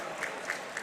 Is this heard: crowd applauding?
yes